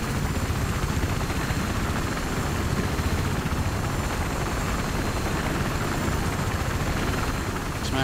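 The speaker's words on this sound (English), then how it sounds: "I got the chopper." A helicopter in the video game Battlefield 3 drones loudly and steadily throughout, a continuous rotor and engine roar filling the whole stretch with no pauses.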